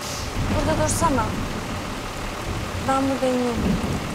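Heavy rain pours steadily and loudly in an Istanbul street, a dense continuous hiss, while people talk briefly over it.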